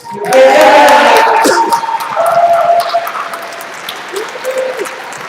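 Audience applause fills a hall at a SOE Fan Faire costume contest for fans in game costumes, a loud burst that gradually thins, with some tonal sound and crowd noise mixed in.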